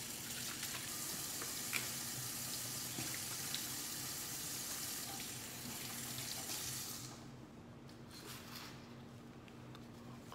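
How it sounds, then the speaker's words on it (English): Hands washed under a running tap: a steady hiss of water hitting a sink, close and even, that drops away abruptly near the end, leaving faint drips and rustles. "wash your hands"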